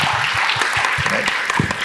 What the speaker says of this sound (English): for all of you to put your hands together and clap so hard that Samir comes in